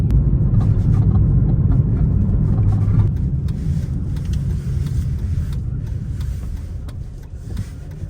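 Steady low engine drone and road rumble from a small Kia car driving on a cold early morning, continuous and fairly loud throughout with no talking.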